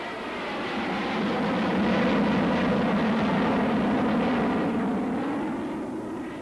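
Rolls-Royce jet engine of a British jet fighter taking off, a steady, loud roar that swells and then fades slightly as the aircraft passes, with no voices.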